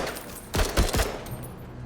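Gunfire in the video game Menace: a quick burst of three close, sharp shots around the middle of a short stretch, with quieter rumble before and after.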